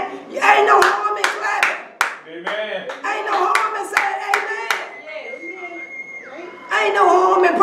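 Church congregation clapping hands in bursts, loud and close, with talk and a sustained tone running between the rounds of applause.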